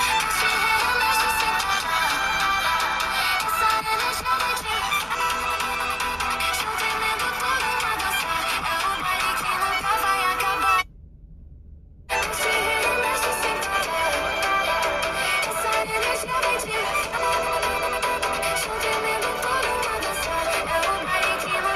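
Stereo speakers on a Samsung S25 and a Google Pixel 10 play the same loud, full-range audio in turn, with a clean break of about a second between the two phones.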